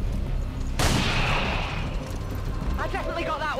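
A burst of pistol fire in XCOM 2: War of the Chosen erupts sharply and loud, then decays into a rumbling tail, with a voice talking near the end.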